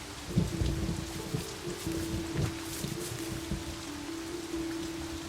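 Steady rain in the video game Walden pours down with a low rumbling underneath and a faint sustained tone, continuous and fairly loud throughout.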